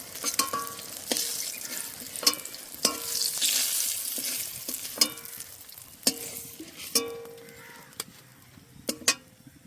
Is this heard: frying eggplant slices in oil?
yes